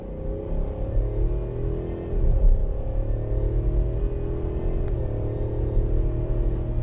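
A 2025 Ford F-350 pickup truck's engine accelerates, heard from inside the cab as a steady, loud low drone with a slowly rising tone.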